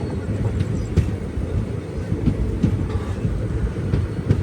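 A train bound for Manuguru rumbles past up close, a loud, steady roar with faint rhythmic clicks of wheels over rail joints.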